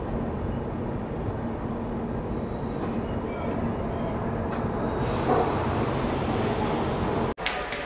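Coromandel Express at Chennai Central station, a steady loud rumble of train and station noise running throughout, with a brief sharp drop near the end.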